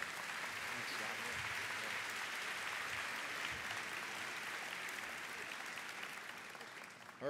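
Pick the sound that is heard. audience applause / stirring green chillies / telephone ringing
audience applause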